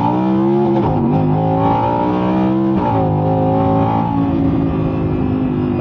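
A 2022 Audi R8 Spyder sports car engine revving hard, close and loud, with the pitch climbing and dropping through several throttle blips in a continuous, harmonically rich roar.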